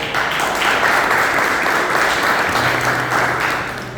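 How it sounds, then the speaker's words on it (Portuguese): A church congregation breaks into loud, close, continuous applause, many hands clapping together in a steady wash, with a faint low hum entering partway through. "Vamos aplaudir a palavra do Senhor."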